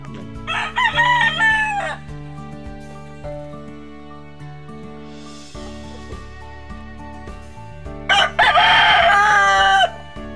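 A native fighting rooster gives two loud, close crows, one early and one near the end, over a steady low hum.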